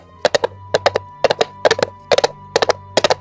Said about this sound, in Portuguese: começou a ouvir o som de batidas de cascos,